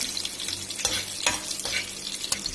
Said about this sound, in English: Fry it well like this.